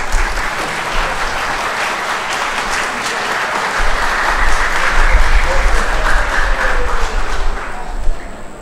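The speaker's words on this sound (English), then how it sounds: "Please, a big round of applause for respected principal to be present on the stage." An audience at a school celebration of International Day of Nowruz applauds the principal walking onto the stage, a loud, sustained wash of clapping that swells toward the end.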